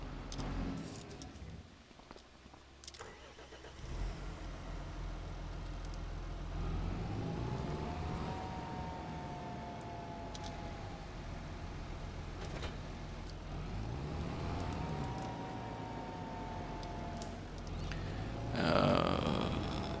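Tractor engine in Farming Simulator 25 runs steadily and fairly loud throughout, its pitch rising and falling twice as the revs change, with a brief clatter near the end.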